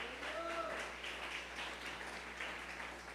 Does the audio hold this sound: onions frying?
no